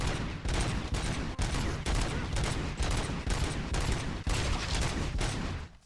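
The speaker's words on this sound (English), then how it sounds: "those UEDs shoot so beautifully. Too bad they're shooting at me" Robot enemies fire guns in RoboCop: Rogue City, a dense, loud burst of rapid gunfire with repeated volleys and brief gaps, sustained for about six seconds before cutting off.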